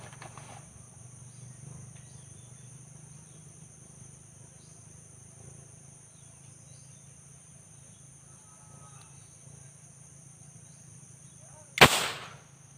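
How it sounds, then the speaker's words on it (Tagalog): A homemade thinner gun fires at marang fruit outdoors: after a long, quiet stretch of insect and ambient hum, one sharp, loud bang cracks out near the end and quickly fades. "Babarilin natin yung marang gamit ang thinner gun."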